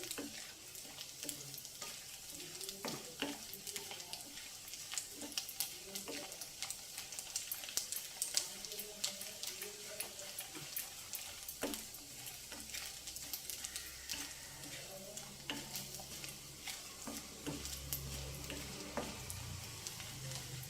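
Okra (bendakaya) frying in oil in a pan while being stirred, a steady crackling sizzle with occasional scraping stir sounds, close and moderately quiet, with someone speaking at times.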